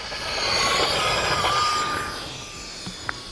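An E-Flite F-14 Tomcat radio-controlled electric ducted-fan jet flies by outdoors in cold weather, a loud, whooshing high-pitched whine that swells and then fades as it passes, followed by a couple of faint clicks.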